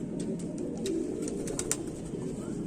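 A young crested Kamagar pigeon with a white face, kept in Jammu and Kashmir, India, coos softly and steadily against a low background hum, its gentle cooing continuing throughout.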